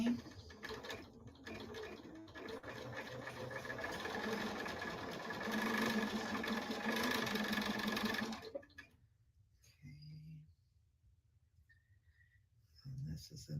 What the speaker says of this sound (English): I've got 4 blocks that we can sew together right now